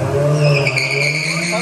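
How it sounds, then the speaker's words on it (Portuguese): A Honda CBR 600 motorcycle screams under hard acceleration as its rear tire spins and skids, giving a loud, sustained squeal over a steady high-revving engine tone. "Quanto mais você acelerar, mais vai derrapar."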